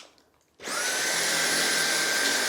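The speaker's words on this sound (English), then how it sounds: "I'm going to move it over to max suction now" Dyson V8 Animal cordless vacuum cleaner switched to max suction on carpet: after a quiet moment, a sudden loud, steady whine with a high motor tone holds without pause, close by.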